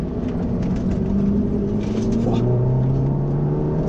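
A 215-horsepower Ford Focus RS MK1 accelerating on the road, its engine droning and rising steadily in pitch from inside the car, with faint talking underneath.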